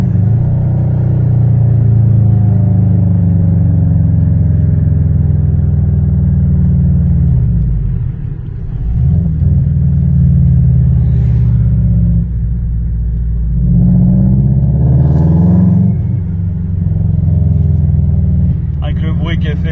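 A Subaru Impreza WRX STI engine revs loudly from inside the car, a deep rumbling roar that rises and falls through several swells, with someone speaking over it.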